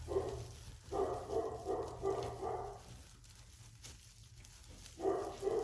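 A dog barks in a quick series of muffled woofs, pauses, then barks again, sounding somewhat distant and faint.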